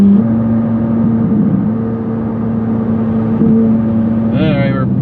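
A Ferrari F50 cruises along, with a loud, steady mid-pitched engine drone and a brief rise in pitch near the end, and some talking over it.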